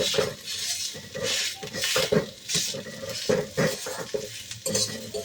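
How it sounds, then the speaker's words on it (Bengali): Onion and poppy seed paste fry in a pan as stuffing for aubergine, with steady sizzling under repeated scraping and stirring strokes of a metal spoon against the pan. "এটা ভালো করে পোস্তর সাথে মিশিয়ে পোস্ত আর পেঁয়াজ ভালো করে ভেজে নিতে হবে।"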